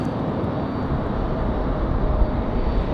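An Aer Lingus airliner arrives at Raleigh-Durham on a windy day, a continuous broad engine rumble that swells slightly near its end, heard at moderate distance with no talk.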